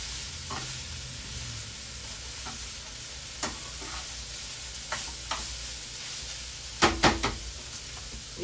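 Meat fries in a pan with a steady close sizzle, broken by scattered clinks and scrapes of a utensil stirring and a cluster of knocks near the end; nobody speaks.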